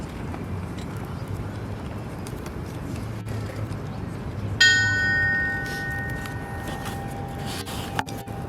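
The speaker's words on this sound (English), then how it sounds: "Ringing the bell and receiving the flag will be his nephew, Kenneth." A single stroke of a memorial bell at a firefighters' remembrance ceremony in Edmonton rings out clearly and decays slowly over steady outdoor background noise.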